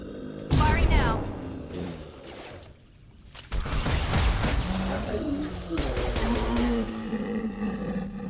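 Gunfire in the video game Mass Effect 2: loud, dense bursts of shots that break off briefly midway and then resume, mixed with game effects and people talking over it.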